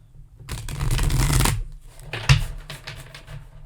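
A deck of tarot cards shuffled by hand: a dense, fluttering riffle lasting about a second, then a shorter riffle and a few soft taps as the cards settle, close and clear.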